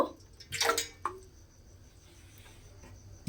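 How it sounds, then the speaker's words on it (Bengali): Water poured into a kadai set on a lit gas stove: one short splashing burst, followed by a few faint drips against a quiet kitchen background. "এখানে জল আমি দিয়ে দিলাম।"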